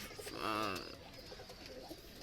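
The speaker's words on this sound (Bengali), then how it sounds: "সব শেষে দুই পেয়ার কবুতর আমি দেখাচ্ছি" A short coo from a Pakistani high-flyer pigeon rises and fades in the first second, followed by quieter background noise.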